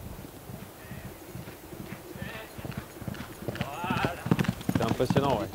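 A horse's hooves clip-clop rapidly as it passes fast, the rhythmic beats growing louder toward the end, with people talking over them.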